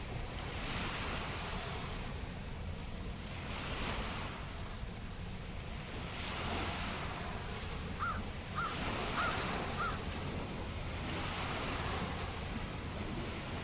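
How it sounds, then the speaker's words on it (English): Wake waves from a large boat wash ashore near Fort Gratiot Lighthouse in a steady rolling surge with repeating swells, and a few crow caws sound briefly in the middle. "Now you can probably hear the waves coming into shore from that large boat."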